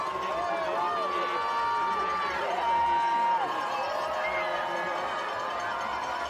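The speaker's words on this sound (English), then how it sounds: "You hear the roar of the crowd" Fans crowd the course at a women's 10 km interval-start classic cross-country ski race in Lake Placid, USA, with a continuous roar in the background while a commentator talks over it throughout.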